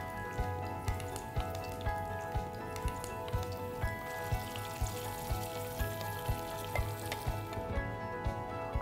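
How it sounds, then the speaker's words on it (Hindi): Chicken sizzles steadily in hot ghee with curry leaves in a pan. The frying is soft and continuous, with small pops over a constant background hum. "अब जब ये हमारा चिकन भून रहा है"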